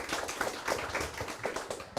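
Audience applause at a district labour policy forum, a steady run of hand claps from a seated group, moderately near, with a brief sharper burst near the end.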